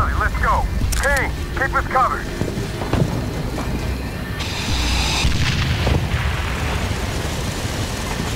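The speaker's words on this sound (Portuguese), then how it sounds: "Essa droga de helicóptero caiu." In the Kane & Lynch: Dead Men video game, a helicopter crashes and explodes. A deep rumbling boom and crash debris roll under wavering sirens or whines, followed by a sustained burst of noise, all amid dense gunfire-like clutter.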